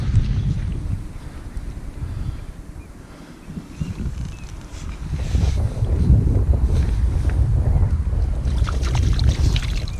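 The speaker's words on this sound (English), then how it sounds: "A bit of a wind." Coastal wind buffets the microphone in steady low rumbling gusts, easing briefly in the middle and then rising louder again for the rest of the stretch, with no talk over it.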